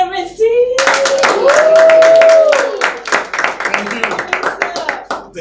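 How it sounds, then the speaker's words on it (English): A church audience breaks into a round of applause welcoming the host, Senior Pastor Reverend Steve, with dense, loud clapping that swells and then thins out, while an announcer's voice carries over the start. "would you all join me, please, with a round of applause?"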